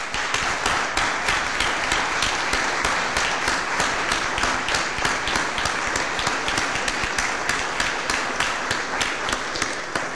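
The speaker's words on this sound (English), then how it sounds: "I'm going to ask everybody to stand and join me in a round of applause for them in getting this thing done." A room full of people at a St. Louis Board of Aldermen meeting giving a standing round of applause for aldermen, dense loud clapping that runs steadily from start to end, close and filling the space.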